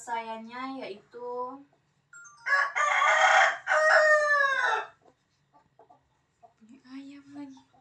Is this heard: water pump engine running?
no